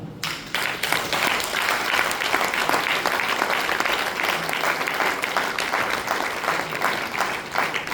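Loud, sustained audience applause at an indoor RCM business meeting, dense clapping starting abruptly after a brief moment and continuing steadily throughout without talk.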